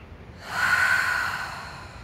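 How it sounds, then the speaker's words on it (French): A single slow breath pushed out through the mouth during a calming exercise, swelling softly then fading into an airy hiss, close and alone against near silence. "expirer à travers la bouche."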